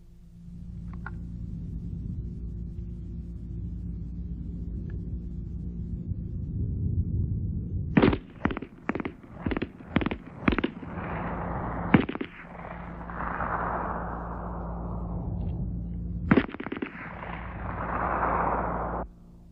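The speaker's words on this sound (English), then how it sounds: "The result was the MP-18 submachine gun." An MP-18 submachine gun fires at an outdoor range in a rapid string of sharp, loud shots, then a pause with ringing echo before a final shot or two, no voices present.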